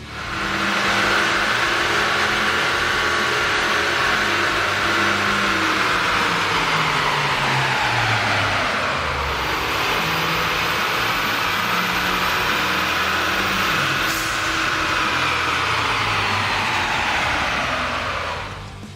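A 2013-2015 Ford Fusion with a 1.6L Ecoboost engine and an AEM air intake accelerates and drones steadily from inside the cabin, the engine note rising and falling through gear changes.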